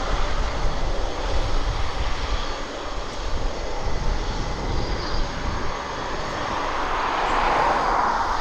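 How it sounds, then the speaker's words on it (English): An airplane lands at East Midlands Airport, its engine roar loud and continuous throughout and swelling with a rising hiss toward the end, with no talking. "we're certainly getting some interesting landings this evening, aren't we?"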